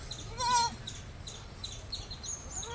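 A large mother goat and her three kids bleat in several short, wavering calls, quiet and fairly close, the higher cries of the young overlapping through a low background murmur.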